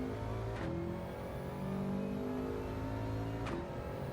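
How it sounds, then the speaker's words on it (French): A Subaru's engine revs steadily in a racing video game, with sustained harmonic drone rising and falling in pitch and two brief whooshing bursts, loud and continuous without talk. "On fait du vroom vroom en Subaru."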